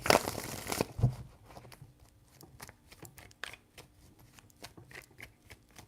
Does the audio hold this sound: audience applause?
no